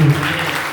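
Applause breaks out among the congregation at a church worship service for the outpouring of the Holy Spirit: a brief, loud burst of many hands clapping together.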